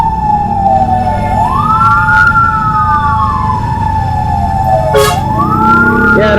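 A water-spraying truck on a Jakarta street sounds a loud wailing siren that rises and falls, over a steady broad rush of engine and spray noise.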